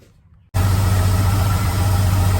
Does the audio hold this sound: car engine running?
yes